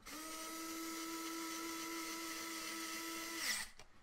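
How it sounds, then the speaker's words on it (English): A screwdriver drives screws into the mount of a BroodMinder Cell WiFi beehive sensor, giving a steady, close motor whine for about three and a half seconds before it winds down and stops. "Then you want to take your screwdriver"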